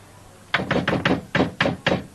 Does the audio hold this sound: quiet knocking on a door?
yes